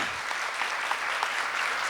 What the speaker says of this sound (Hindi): तालियों की गूंज थोड़ी कम पड़ रही है।